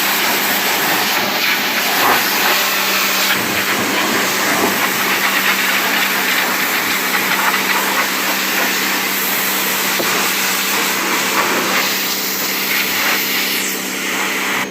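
An old boat motor on an '87 Excel boat runs loud and steady, with a continuous hissing, droning hum that holds evenly for the whole stretch and no voices over it.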